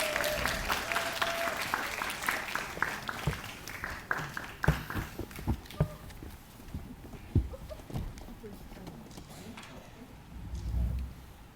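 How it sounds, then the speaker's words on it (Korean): At a special screening event for the Korean film 7 Years of Night, the audience applauds to welcome the directors. The dense clapping is strongest at first, thins into scattered claps, then fades to quiet shuffling. "여러분 뜨거운 박수 부탁드릴게요"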